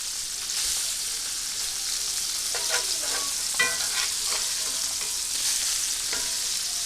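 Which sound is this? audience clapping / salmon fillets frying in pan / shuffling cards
salmon fillets frying in pan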